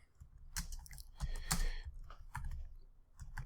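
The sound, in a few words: typing on computer keyboard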